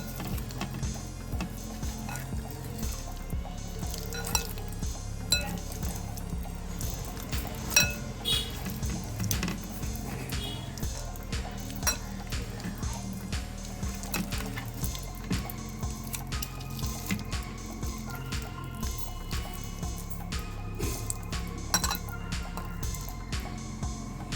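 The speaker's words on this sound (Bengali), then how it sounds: "আমি প্রথমে এই আমটাকে এরকমভাবে মেখে নেব, মেখে আটিটাকে বের করে নেব।" Ripe mango being mashed by hand in a bowl for Bengali chutney, soft squishing and wet clinking sounds repeating steadily and quietly over a low background hum.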